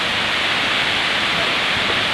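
Benang Kelambu waterfall in Lombok, Central Lombok, gives off a constant, dense roar of falling water, steady and loud with no breaks.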